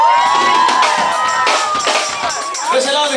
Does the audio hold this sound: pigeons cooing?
no